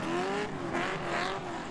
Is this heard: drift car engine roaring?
yes